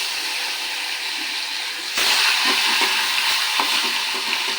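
Hot oil sizzles steadily, then flares louder as pomfret fish drop in, with a few light clinks of a utensil against the pan.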